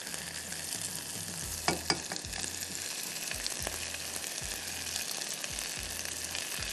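Onion and garlic fry in a pan with a steady close sizzle, broken by a couple of sharp clicks of stirring, while a low hum runs underneath.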